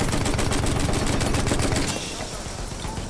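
Rapid gunfire in the Battlefield 1 video game, a loud dense barrage of shots that thins out partway through, with no speech over it.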